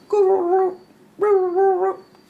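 A voice gives two short, nasal, whiny caws in imitation of young crow calls, each about half a second, separated by a brief pause.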